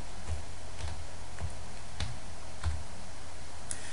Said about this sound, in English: If you click in the field and start to type in the concept frame